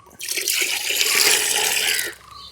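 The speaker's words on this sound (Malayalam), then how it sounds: "ഇങ്ങനെ കോരി കോരി നമ്മൾ പത്ത് ലിറ്ററോളം വെള്ളം ഇതിനകത്തേക്ക് മാറ്റുകയാണ്" Water scooped and poured into a bucket, about ten litres being transferred, makes a loud continuous splashing pour for roughly two seconds before it stops, close up with no talk.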